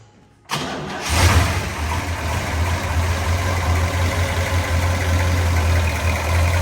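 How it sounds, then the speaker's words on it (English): A 1967 Chevrolet Biscayne with an LS6 454 V8 and solid lifters cranks briefly, fires up loudly and settles into a steady, rumbling idle close by. "you can hear the solid lifters in that LS6 454"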